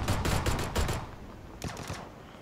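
Rapid bursts of gunfire in PUBG crackle in quick succession, loud at first, then a second shorter volley follows after a pause, more distant and softer.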